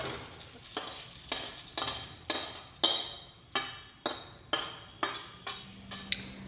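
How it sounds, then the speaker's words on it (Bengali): Boiled pasta is stirred in a pan with butter, salt and pepper: about a dozen steady, rhythmic scraping strokes, close and clear, with no talking. "ওই সেদ্ধ পাস্তাকে অল্প মাখন আর নুন মরিচ দিয়ে একটুখানি নাড়িয়ে দেবো"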